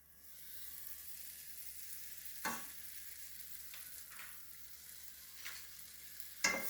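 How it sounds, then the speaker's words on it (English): A tablespoon of butter sizzles faintly in a preheated frying pan, a steady soft hiss broken by a few brief clinks and stirring sounds, with no talking. "I preheat my frying pan and I'm using a tablespoon of butter"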